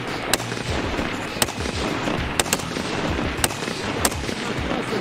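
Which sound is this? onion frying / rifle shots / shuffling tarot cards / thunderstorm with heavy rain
rifle shots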